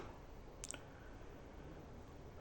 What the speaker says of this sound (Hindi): ट्रांसफ़र पर क्लिक किया